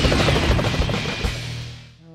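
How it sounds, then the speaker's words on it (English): A helicopter pursues the player in the Spider-Man video game, its steady rotor roar loud and continuous with a brief crash-like burst partway through, fading slightly at the end. "here's the part where I run from a helicopter for 15 minutes because it keeps killing me"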